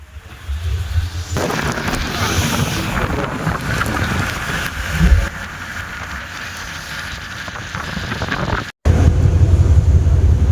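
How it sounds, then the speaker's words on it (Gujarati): A ro-ro ferry on the sea between Bhavnagar (Ghogha) and Surat pushing through rough water, with steady rushing spray and wind buffeting the microphone, a sharp break near the end. "પાણી એટલું કાપતી કાપતી જાય છે ભાઈ આપણી બોટ"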